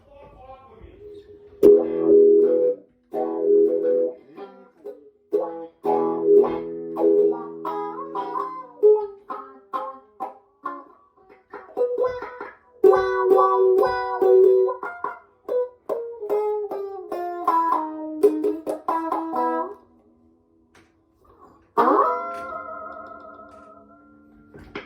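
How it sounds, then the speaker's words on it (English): Electric guitar plays short wah-pedal licks in the neck and bridge pickup positions, notes sweeping in tone with pauses between phrases, up close and alone. "Lay down a couple wah licks in the neck"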